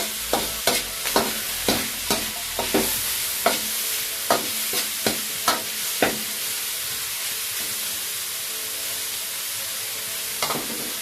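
Food fries in a pan while a spoon stirs it, giving a bright continuous sizzle with a run of regular scraping strokes that thin out, then one last scrape near the end.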